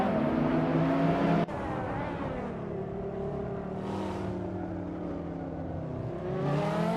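A 2009 BMW M3 GTS race car engine drones steadily in a racing video game, with a sharp shift in tone early on and a mild swell in revs toward the end.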